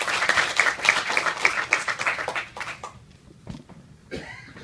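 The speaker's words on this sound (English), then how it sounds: "Please, a warm round of applause." An audience at a UNDP event gives a round of applause, a dense burst of clapping that fades away after a few seconds. Some scattered coughs and small noises follow it.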